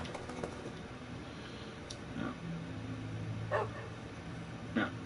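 Dogs in a farming video game give several short, sharp barks spaced a second or so apart, faint and thin over a steady low background hum.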